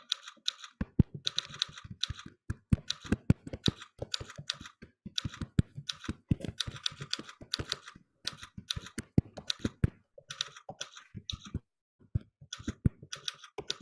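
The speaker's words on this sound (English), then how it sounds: "I'm always typing in lowercase" Typing on a computer keyboard nearby: quick bursts of crisp key clicks in irregular runs, separated by short pauses, fairly quiet and with no talking.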